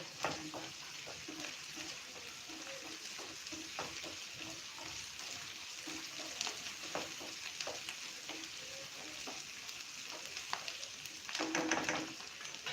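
Onions and peanuts roast in a pan for batata poha, giving a steady crackling sizzle with frequent stirring scrapes and clicks.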